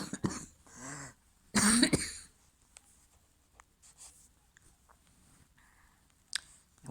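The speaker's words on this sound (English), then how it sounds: "I'm going to cough, excuse me." A person coughs close up, one loud burst around the middle after a softer cough at the start, followed by quiet rustling and small mouth sounds with no talking.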